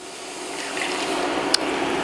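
Vinegar poured over lightly toasted dried chili peppers while making hot sauce gives a soft, steady wash of liquid hiss lasting about two seconds, close and fairly quiet, with one brief sharp tick near the end.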